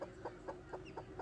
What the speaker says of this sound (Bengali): আপনারা দেখতে পাচ্ছেন যে আমাদের মুরগিটি বসে আছে, তার নিচে আমাদের চীনা হাঁসের বাচ্চা ফুটেছে।